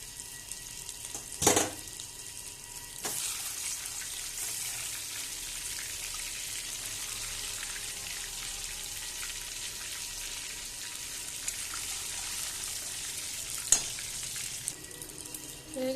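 Eggs frying in a pan of hot oil, a dense steady sizzle close by, with a couple of sudden louder bursts of spitting and clattering near the start and end.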